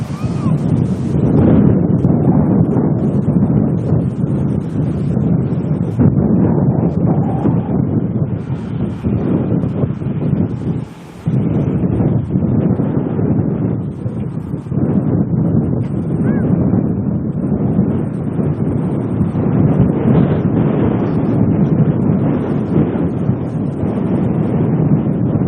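Heavy, steady wind buffeting an outdoor microphone at an airport plane-spotting stream in Auckland, a loud continuous low rumble lasting throughout with one brief dip partway through.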